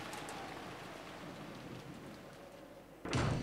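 Steady rain and wind hiss evenly in the Umineko visual novel. Near the end, a sudden louder rumbling burst breaks in over the wash of falling water.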